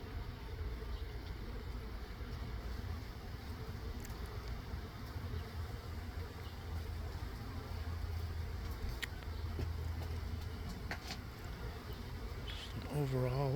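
Honeybees buzz steadily at the entrance of a Layens hive, a dense continuous drone of many insects close by, with occasional faint clicks and a brief sound at the end.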